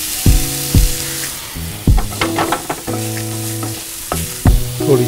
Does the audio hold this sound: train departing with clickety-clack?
no